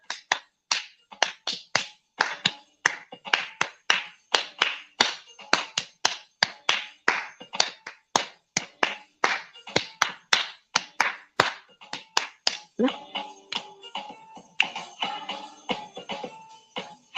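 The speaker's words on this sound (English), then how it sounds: "Soul clap." Rhythmic hand clapping, a soul clap, with a steady run of sharp, even claps close to the microphone throughout, joined by a softer, muddier mix of sounds toward the end.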